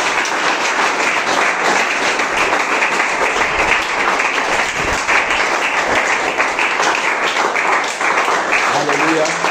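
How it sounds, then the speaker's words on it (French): A church congregation in Cameroon claps and cheers for the Lord in dense, sustained applause that fills the whole stretch at close range. "Acclamons très fort pour le Seigneur."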